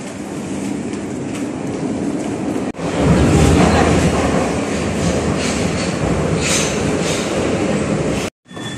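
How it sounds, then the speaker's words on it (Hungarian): Budapest metro train in motion, a steady loud rumble and rush of wheels and air that swells after a brief dip, with a short dropout near the end and no talk. "Most metrózunk egy picikét"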